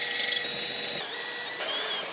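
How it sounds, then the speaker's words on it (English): Power drill running an 8mm bit through 6mm holes to widen them on a spring upgrade kit mounting, a steady high whine that holds for about two seconds with a brief shift midway. "I'm going to drill out the 6mm holes with an 8mm drill bit"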